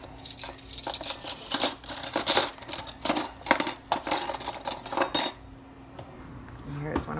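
Cutlery rummaged through in search of a small teaspoon, a close, busy jangle of metal spoons clattering together in bursts for about five seconds, then quieter handling.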